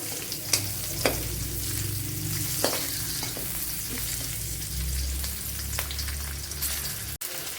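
Ingredients sauté in a hot pan with a continuous sizzle and occasional scraping stirs, steady and close, with no talk.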